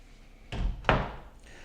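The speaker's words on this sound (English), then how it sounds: "Shut these doors here." Two doors in a Las Vegas apartment are pushed shut in quick succession, each a solid thud with a short rattle, near and fairly soft, with no talking.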